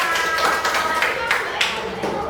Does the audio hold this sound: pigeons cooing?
no